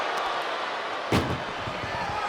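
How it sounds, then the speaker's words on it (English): A single sharp door slam rings out in a WWE 2K25 Close the Door match, a brief loud bang heard over steady crowd noise and arena ambience. "they can slam this door shut"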